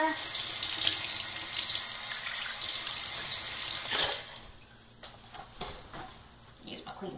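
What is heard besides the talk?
tap running warm water for rinsing face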